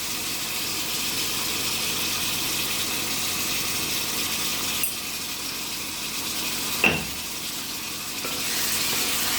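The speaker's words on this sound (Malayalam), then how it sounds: "ഇനി ആ തക്കാളി ഒന്ന് വേവുന്നത് വരെ വഴറ്റിയെടുക്കാം." Chopped tomatoes and masala for egg biryani sauté in a pan with a steady close sizzle, and a sharp utensil clink sounds partway through.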